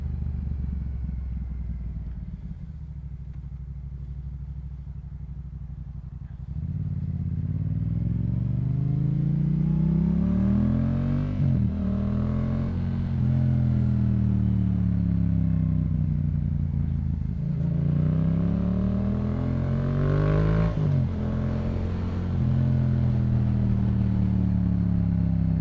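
A Yamaha MT-07 motorcycle on a commute drones steadily from close by, then its engine note climbs through several rising and falling gear pulls, loud and continuous with no talk.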